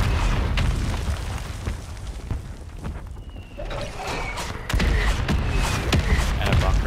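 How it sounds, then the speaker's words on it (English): Mortar strike in a battle royale video game, a steady rumbling barrage with dull booms and a heavier blast near the end, continuous and fairly loud. "Well, I gotta survive this mortar strike first."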